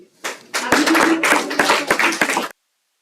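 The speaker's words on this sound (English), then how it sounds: "Please give a huge round of applause for our winners" Audience applause at a climate diplomacy event honouring award winners, a burst of clapping from a room of people lasting about two seconds, steady and fairly close, then stopping abruptly into silence.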